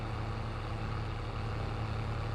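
Tractor engine idling in the video game Farming Simulator 22, a steady low throbbing rumble with even pulsing, constant and fairly loud with no voices.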